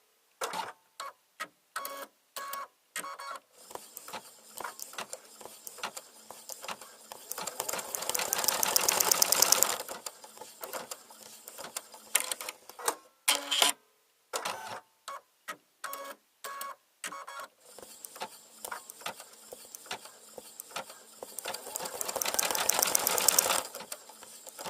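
A home sewing machine stitches out one of its built-in embroidery designs on a holiday bauble, a steady run of quick mechanical stitching clicks with brief pauses between bursts, close and alone.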